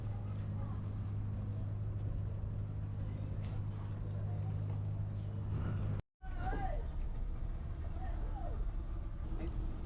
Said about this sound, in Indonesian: Di sini kita sewa kapal kecil dengan muatan mungkin maksimal 8 atau 10 orang.